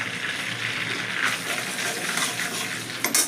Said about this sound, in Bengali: এবার ওই তেলের মধ্যে দুটো তেজপাতা আর একটু গোটা সাদা জিরে ফোড়ন দিয়ে দিলাম।